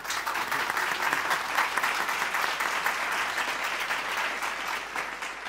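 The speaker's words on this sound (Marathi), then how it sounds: "टाळ्या तर झाल्याच पाहिजेत." Audience applause at a Marathi interview with comedian Sameer Chaugule, sustained dense clapping from a crowd, steady and fairly loud throughout with no talk over it.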